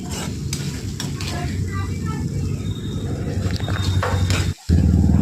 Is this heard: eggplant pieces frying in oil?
yes